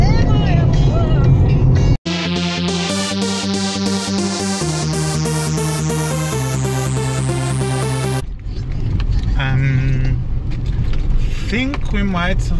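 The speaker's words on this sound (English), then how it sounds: "we're driving on this like really, really weird like dirt road" A car driving along a rough, winding dirt road in the Rhodope mountains, its engine holding strong steady harmonic tones that step up through the gears, with mechanical rattling and voices talking throughout.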